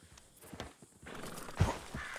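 Horse in the video game Red Dead Redemption, quiet clip-clopping hooves on a street with a brief snort or whinny, faint and close, without speech.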